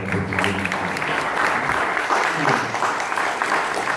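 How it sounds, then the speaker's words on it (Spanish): Audience applause at a book presentation, a sustained dense patter of many hands clapping throughout, fairly loud and even, with faint voices mixed in. "Entonces también quiero pedir un aplauso para Don Lago"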